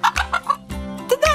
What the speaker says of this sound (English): Chicken just lay an egg.